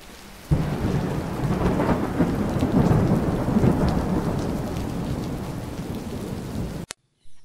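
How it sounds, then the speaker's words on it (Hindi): Cartoon rain effect: after a short quiet start a heavy downpour with rolling thunder sets in abruptly and keeps up loud and steady, then cuts off sharply near the end. "अरे ये क्या बारिश होने लगी"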